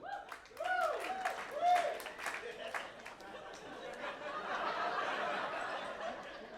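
A comedy club crowd laughs and chatters at first, then a modest round of clapping builds and holds to the end.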